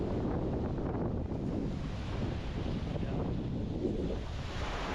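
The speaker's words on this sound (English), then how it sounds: "There are some waves also as well that are building from the winds, for sure." Strong wind buffets the microphone with a steady roar while waves wash onto a Baltic Sea beach in the Erstavik nature reserve, continuous and close, with no voices.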